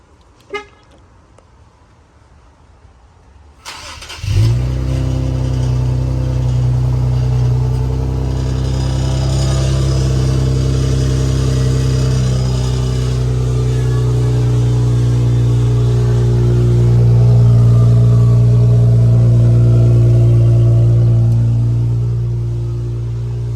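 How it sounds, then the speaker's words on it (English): Infiniti Q50S with a muffler delete fires up on a cold start after a quiet lead-in, settling into a loud, deep, droning idle that swells slightly in the later seconds, close and uninterrupted. "this gonna be the first startup since I got the muffler delete."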